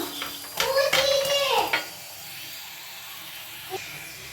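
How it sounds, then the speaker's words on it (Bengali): Cauliflower paratha frying in a pan over medium heat, with a soft steady sizzle and hiss and a few louder clattering scrapes early on before it settles into quieter frying. "দেখুন কত সুন্দর লাল লাল করে ভাজা হচ্ছে, ফুলে ফুলে উঠছে"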